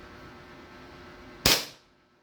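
Single close, sharp gunshot from a Staccato 5.1 pistol at a firing range, a loud crack that decays quickly over low background noise.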